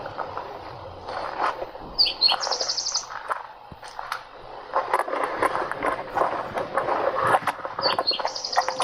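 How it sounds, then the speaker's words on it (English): Birds chirp and tweet in short, bright phrases at a moderate distance, repeating a few times over soft rustling background noise. "You hear even the birds."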